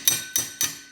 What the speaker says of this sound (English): the ringing you hear is actually a loose handle in the hammer